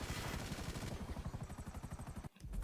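An attack helicopter in GTA Online thumps its rotor in a fast steady rhythm, loud and close, with a rattling burst of gunfire layered over it before a brief cutoff.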